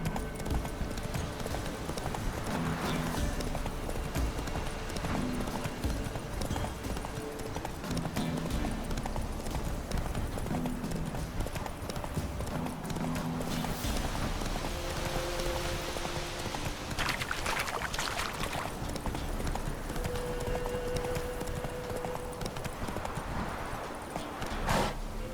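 Horse hooves clip-clopping steadily in The Witcher 3, a rhythmic mid-distance trot under rain-like patter and ambient game sound, with a faint whinny.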